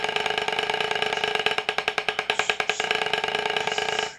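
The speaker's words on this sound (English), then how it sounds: "for loud rolls, we're going to have very quick arm strokes, but we're going to have very few strokes per bounces" A loud drum roll played with fast arm strokes and only three or four bounces per stroke, producing a dense, rapid pulsing rattle that swells and then cuts off, heard alone.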